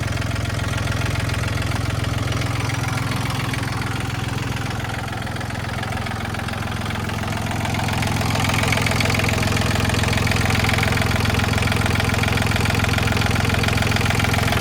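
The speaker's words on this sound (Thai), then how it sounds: "เครื่องดีเครื่องแน่นครับ ไม่มีไอครับผม" A 39 hp Yanmar tractor engine, a 2017 model, idles steadily with a low, even rumble. The loud, close drone dips slightly partway through, then settles back, alone with no voices.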